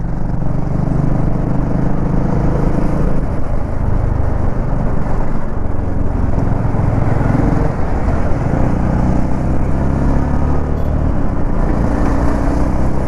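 A 2025 BSA Gold Star 650 ridden through leaning turns on wide tyres gives a steady, continuous engine drone mixed with wind rush, close and unbroken, with no talking.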